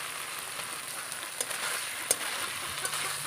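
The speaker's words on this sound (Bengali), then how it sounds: "দিয়ে আবারও আমি আলুগুলোকে একটু মশলার সাথে কষিয়ে নেব।" Fried potatoes sauté in a spice masala for a Bengali-style egg curry, giving a steady soft sizzle with occasional small pops and clicks, heard close and alone without talk.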